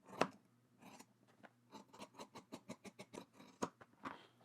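Fabric scissors trim a sewn seam on a utility jacket, a quiet, close run of quick rhythmic snips speeding into a steady series before slowing, with no talking.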